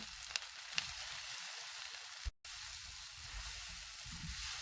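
Tomato paste sizzles steadily in a hot pan as it is pushed around, a close, even frying hiss with faint scrapes of stirring and a brief cut in the middle.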